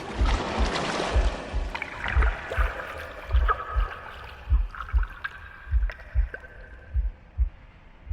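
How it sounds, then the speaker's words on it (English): Water gurgles and burbles steadily in a video game, The Last Campfire, with a low rhythmic thump like a heartbeat pulsing underneath throughout. "The gurgling of water, a deafening heartbeat."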